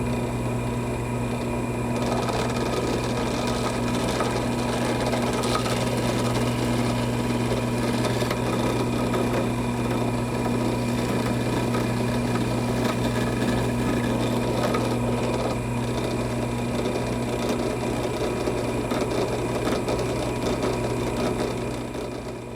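A small drill bores a hole in a wooden model ship hull, giving a steady, continuous whir with a constant hum that holds for about twenty seconds with no talking.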